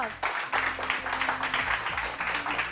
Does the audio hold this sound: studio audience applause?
yes